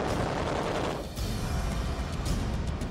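Naval Bofors cannon aboard the Taiwanese warship Cheng Kung firing a dense, continuous burst of rapid booming shots, loud and close, with a brief lull near the middle before the barrage resumes.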